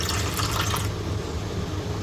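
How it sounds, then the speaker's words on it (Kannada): Milk poured from a half-cup into a jaggery candy mixture, a steady liquid pouring and trickling sound, close and continuous, with a brighter splashing stretch at the start that settles into a softer flow. "ಇದಕ್ಕೆ ಒಂದು ಅರ್ಧ ಕಪ್ಪಷ್ಟು ಹಾಲು ಹಾಕ್ತೇನೆ."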